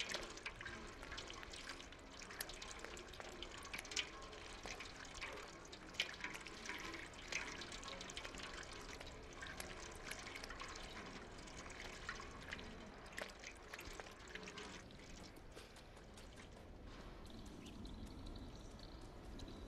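Dirty water trickles and drips steadily in the video game Stray, a continuous close, fairly loud wet spatter with brief splashy accents and no talk.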